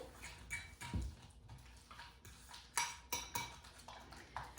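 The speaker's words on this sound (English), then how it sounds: "go ahead and stir those in" Nuts being stirred into breakfast cookie dough in a bowl, heard as soft scraping and occasional light clinks of a utensil against the dish, quiet and irregular, with no talking.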